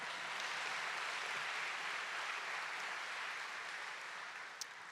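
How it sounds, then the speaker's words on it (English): Steady applause from a high school graduation audience, a broad wash of clapping held evenly throughout and tapering slightly at the end, with no talk. "Let's hear another round of applause for him."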